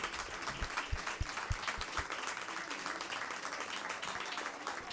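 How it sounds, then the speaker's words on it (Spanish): An audience claps after a talk at a public conversation event, a sustained, even patter of many hands with a few sharper individual claps standing out near the start. "Sí, a los aplausos."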